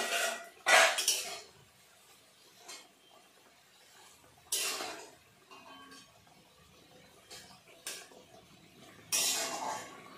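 A pan lid being lifted and eggplant pieces flipped while doi begun cooks on low-medium heat: a few separate clattering metal clinks and scrapes, with a soft sizzle between them.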